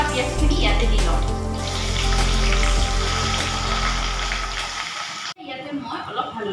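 Chopped onions go into hot mustard oil in a wok with bay leaves and dried red chilies, giving a loud, steady sizzle that runs for about five seconds and then stops abruptly. A voice talks over it.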